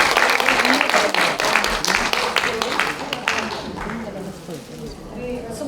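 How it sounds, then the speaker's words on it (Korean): Dense applause for a singer at a Korean women's forum in a National Assembly hall bursts out loudly and then slowly thins and fades over several seconds. "박수 부탁드립니다."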